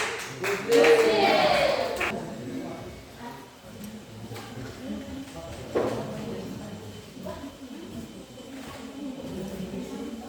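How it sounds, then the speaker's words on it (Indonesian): A burst of classroom applause from students clapping together during a maths lesson, brief and fairly close, fading into a quieter room where voices talk. "Tepuk tangan untuk siapa?"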